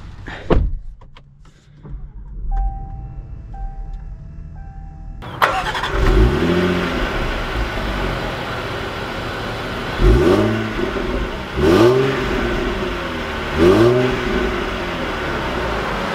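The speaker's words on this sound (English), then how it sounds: "Let's take this Discovery out and see how she drives." A 2020 Land Rover Discovery HSE Luxury engine starts up and pulls away, then revs climb in three or four rising surges as the SUV accelerates, loud and close with no talk.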